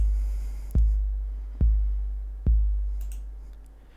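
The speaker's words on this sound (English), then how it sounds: "So it played 808 kicks on every downbeat, and the tempo right now is set to 140." An 808 kick drum pattern plays in FL Studio at 140 BPM, three deep, booming hits evenly spaced on the downbeats, each with a long decaying low tail, with no talking.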